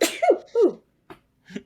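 A single sharp sneeze bursts out nearby, followed by a couple of short breathy catches in an otherwise quiet room.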